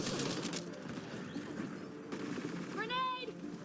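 A weapon fires in Mass Effect: Andromeda amid busy, dense combat noise, with a sharp tonal electronic whine near the end.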